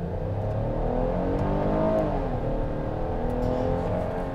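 The engine of a 2021 Chrysler Pacifica AWD Pinnacle minivan revs hard and steady during a brake-boost launch, a loud, close, sustained drone that climbs slightly in pitch, with no talking.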